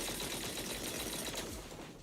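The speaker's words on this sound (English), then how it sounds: "That was the sound of a heavy cannon?" Dense, rapid booming heavy cannon fire in the video game Zenless Zone Zero rumbles continuously, heavy and loud, then eases off slightly toward the end.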